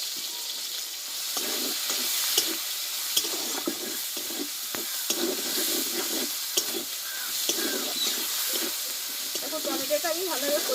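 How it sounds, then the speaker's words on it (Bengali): Chopped tomato with salt and turmeric sizzles and hisses in a hot pan, a steady close fry broken by the scrape of stirring, with a voice talking briefly over it. "টমেটোটা একটু অল্প করে আমি একটু কষে নেবো"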